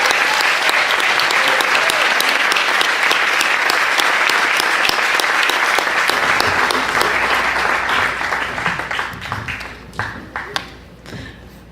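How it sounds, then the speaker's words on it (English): A large crowd applauds at a building expansion dedication, dense, loud clapping that holds steady and then thins out into scattered claps and fades near the end. "Let's applaud all these amazing folks"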